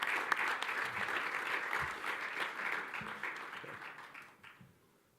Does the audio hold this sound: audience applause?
yes